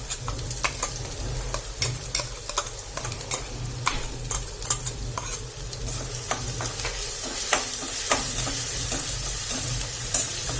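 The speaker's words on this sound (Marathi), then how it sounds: "आता आपला कांदा ब्राऊन होईपर्यंत आपण त्याला छान तेलात परतून घ्यायचं आहे" Chopped onion and crushed green chilli paste sautéing in oil in a pan, a steady close sizzle with frequent sharp scrapes and clicks of a spoon stirring throughout.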